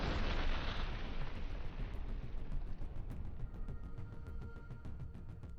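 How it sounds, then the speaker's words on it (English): Deep, rumbling roar of an ammunition depot blowing up after a drone strike on the Sumy front in Ukraine, a long dense boom that slowly decays while sharp crackling pops of cooking-off rounds scatter through it. "Footage of Ukrainian forces completely destroying a BK depot in a section of the Sumy front."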